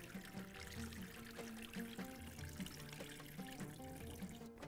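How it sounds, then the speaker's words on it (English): Water from washed rice pours off steadily as it is drained in a kitchen while cooking machboos, a continuous soft trickling splash that stays faint and even throughout, with no voices. "I'm going to drain the water off."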